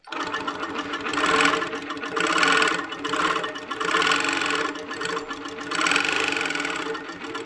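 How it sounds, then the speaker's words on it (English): A sewing machine in a quilting showroom runs steadily at about 400 stitches per minute, loud and close, its whirring motor swelling and easing in several bursts with no talk. "look how different this is when I sew with it."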